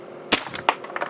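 Tokyo Marui Hi-Capa airsoft pistol, stock with a 4.3 lower and fed from a TM magazine with 0.28 g BBs, fired through a chronograph. One sharp, close crack is followed by a few fainter snaps in under a second.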